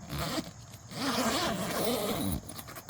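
A long zipper on a Hisun Stryker side-by-side's soft upper door pulled open nearby, a steady ripping rasp with slight wavering in pitch, running a couple of seconds before stopping.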